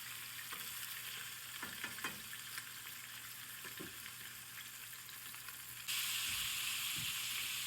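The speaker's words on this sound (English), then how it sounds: "I'm doing a pretty good sear here on each one of these tenderloins" Pork tenderloins sear in hot oil with a soft, even sizzle, broken by a few light knocks and clinks of the meat being turned; the frying hiss grows slightly brighter near the end.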